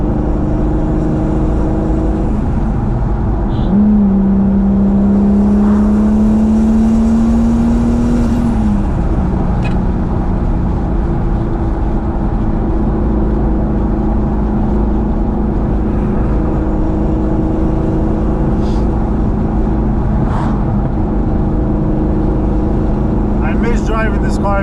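Engine drone from a B5 Audi A4 with a swapped turbo VR6T, a steady low hum in the cabin with a brief rising tone around the middle, while someone talks over it.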